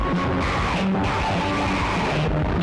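Harsh, distorted, noisy black metal music with a dense wash of grinding texture and indistinct shouted vocals, continuous and loud.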